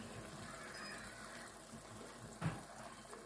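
A cup of water goes into chana dal cooking in a pot, a faint steady pour with a small splash near the end, heard alone without talk.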